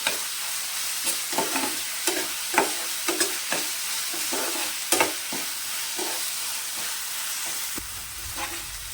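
Finely chopped onion and capsicum softening in a pan, a steady sizzle broken by repeated scraping knocks of a spoon stirring, with no talking.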